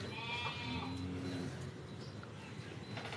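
A cow being fed calls out with a short, drawn-out moo early on, fairly faint against a quiet outdoor background.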